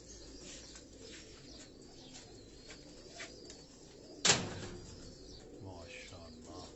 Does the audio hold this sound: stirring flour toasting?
no